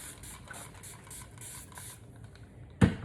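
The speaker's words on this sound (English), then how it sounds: "your spray bottle and you want to drench the hair" Water from a spray bottle drenches natural hair in a run of about six quick, rhythmic hissing squirts, followed by a brief pause and a sharp knock at the end.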